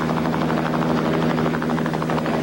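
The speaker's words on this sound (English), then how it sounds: "LeMond was rushed by air to the University of California Davis Medical Center, the helicopter saving about an hour" An air ambulance helicopter's rotor thumps and turbine whines, loud and steady throughout, with a rapid chopping pulse and no talk.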